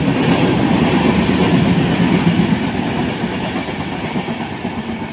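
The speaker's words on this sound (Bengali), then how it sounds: "Saraighat express, Howrah two Guwahati Saraighat express." The Saraighat Express, running from Howrah to Guwahati, rolls along a new rail line with a loud, steady rumble and rapid clickety-clack of wheels over rail joints that eases slightly toward the end, with no voices.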